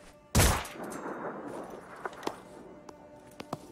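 A weapon fires in the tactical strategy game Phoenix Point: one sharp, loud report, then a faint lingering rumble with a few small clicks and taps trailing off.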